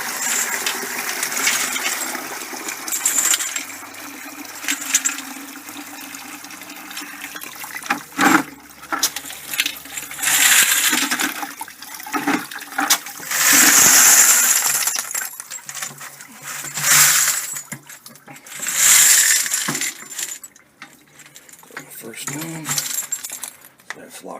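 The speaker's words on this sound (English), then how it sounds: "I'm going to drain this water out." Water and stainless steel pins draining from a brass tumbler, with bursts of metallic jingling and splashing pouring in uneven surges, separated by short quiet gaps.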